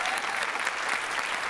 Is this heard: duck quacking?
no